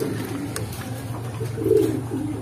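Pigeons coo close by in low, soft, repeated throaty phrases, a steady rolling murmur with one slightly louder coo near the end.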